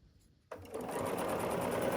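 A sewing machine chain pieces quilt sashing units. After a short quiet start, it kicks in abruptly and runs at a steady, fast, close-up whir.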